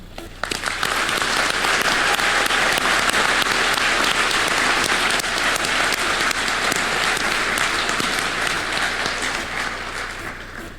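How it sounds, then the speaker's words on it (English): Graduation ceremony audience at Kent State University Trumbull Campus applauding an honoree, a broad sustained roar of many hands clapping that rises quickly, stays loud and even for about ten seconds, then tapers slightly at the end. "May we take a moment and show him our gratitude through our applause."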